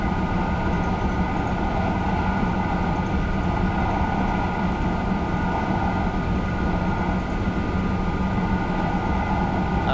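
A TGV high-speed train in Train Simulator Classic runs with a constant loud rumble and a tonal whine, steady and unbroken.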